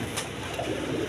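Pigeons in a loft, a mated pair with their two young, give low soft cooing that murmurs steadily at close range, with a few brighter chirps mixed in and no talking.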